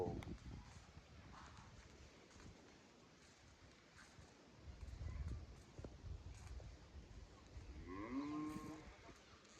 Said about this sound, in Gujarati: આ છે અમારી ભેંસો